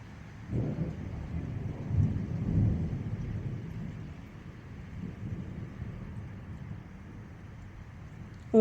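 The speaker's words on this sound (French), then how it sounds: "Un peu de tonnerre, là, hein?" Low thunder rumbling at a distance, a soft swelling roll that fades into a faint, steady outdoor background.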